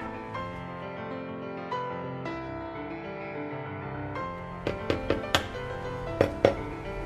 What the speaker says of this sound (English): So that's the sound of freshly baked bread with a lovely crust.